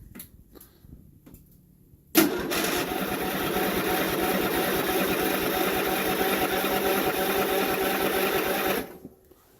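An old tractor engine, on a cold day inside a tent, catches after a few faint starter clicks, then runs at a fast, steady, rattling idle, loud and close.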